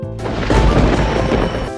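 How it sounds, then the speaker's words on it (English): A loud clap of thunder in a storm under a blackening sky, heard as a sustained crashing rumble that fills the whole moment. "There was lightning and a clap of thunder."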